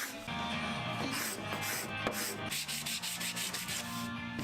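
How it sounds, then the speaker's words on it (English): Sandpaper rubs steadily over the wooden back panel of a dartboard cabinet, a close, continuous scratchy rasp with rhythmic strokes, no voices. "First I sanded it, and then I used the card scraper to remove any of the dried up glue."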